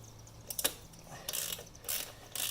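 A ratchet wrench clicks in a few quick bursts while loosening a bolt on the rear shock of a 2022 Honda Grom during a suspension upgrade, close and fairly quiet.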